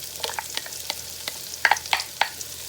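Pasta sauce ingredients for a spicy jerk creamy pasta go into a hot pan and sizzle softly, with a series of sharp utensil clicks and scrapes against the pan, close and moderately loud.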